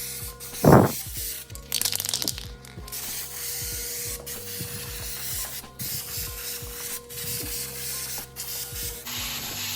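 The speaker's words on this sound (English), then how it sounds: "I'm staying pretty far back with the can because it's sputtering now, and we're pretty much empty" Nearly empty spray paint can sputtering while coating Honda Prelude Type-SH side skirts, with uneven hissing bursts, rubbing and clicking mechanism noises, fairly close and moderately quiet.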